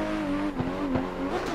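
A Toyota A90 drifting in tandem in Assetto Corsa, its engine holding a steady high drone with short tire-squeal bursts and shifting pitch as the car slides through the run.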